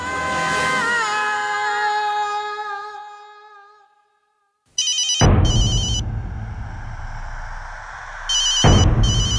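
A telephone rings in repeated electronic bursts, loud and close, after a fading tonal passage and a brief silence, with steady rumble between rings.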